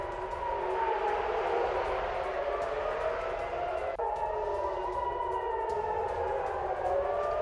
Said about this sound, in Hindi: रूस के ही कब्जे वाले क्रिमिया में एयर रेड अलर्ट है और सिम्फरोपोल में ही गूंजे अलर्ट सायरन।